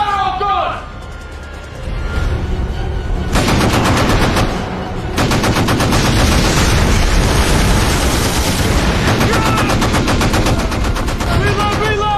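Heavy naval gunfire from a warship in an Atlantic war film, with rapid machine-gun bursts and booming shots that form a loud, continuous barrage over shouted voices.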